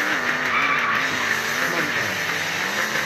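Car tires skid and squeal loudly in a sustained screech during braking and acceleration tests, with engine noise running steadily beneath for about three seconds.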